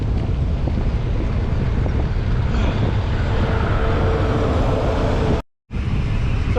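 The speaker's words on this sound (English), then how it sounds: "looks like it's gonna be another windy day today" Steady, loud wind buffets the microphone during a bicycle ride around a retirement community on a gusty day, a continuous roar filling the clip with a brief dropout near the end.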